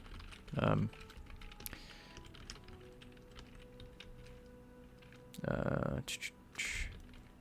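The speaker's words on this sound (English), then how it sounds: "I can't see my keyboard when I'm typing, so if I make a lot of mistakes, that's why." Fingers type on a computer keyboard during a C++ and Vulkan game-programming session, a steady patter of soft key clicks with bursts of talking in between.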